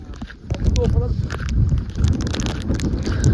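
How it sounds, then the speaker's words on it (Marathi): Gusty wind on a hilltop fort buffets the microphone in a low rumble, with a few faint clicks and knocks over the steady outdoor roar. "वारा आहे सुटलाय ना असा मस्त एकदम."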